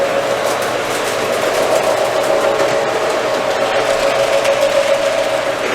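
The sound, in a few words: HO gauge model trolley running on a layout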